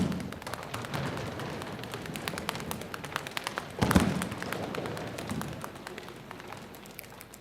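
An audience stomps and pounds in a rumbling rush, swelling to a loud thud near the middle before fading, imitating rolling thunder.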